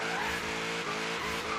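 A Ford F100 street truck in Forza Horizon 3, its engine roaring hard with rhythmic gear shifts and screeching tires, loud and continuous.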